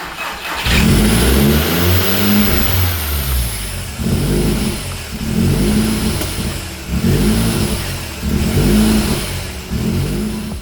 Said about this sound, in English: Now with the exhaust installed, let's see what it sounds like.